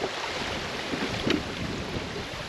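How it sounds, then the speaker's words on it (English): Loud, steady rush of river rapids on a fishing trip downriver, broadband water noise with wind buffeting filling the clip, no voices. "Sorry for the loud noise, but that's rapids for you."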